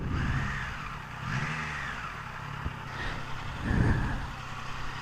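Triumph Trident 660 motorcycle riding through traffic with engine revs rising and falling as gears shift up and down, a steady droning ride with a few louder surges.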